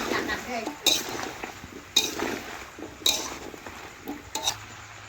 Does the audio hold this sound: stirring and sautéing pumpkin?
yes